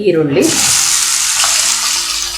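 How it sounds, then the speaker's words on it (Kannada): Half a teaspoon of cumin seeds crackling in hot oil for panchmel dal, a loud, close, continuous sizzle that swells in at the start and holds steady for a couple of seconds. "ಜೀರಿಗೆ ಒಂಚೂರು ಚಟಪಟ ಅಂತ ಅಂತಿದೆ"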